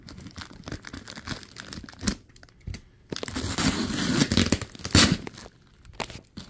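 A taped-up cardboard box is torn open and crumpled close by, with bursts of tearing, crinkling and crushing separated by short pauses, loudest in the second half, no talking.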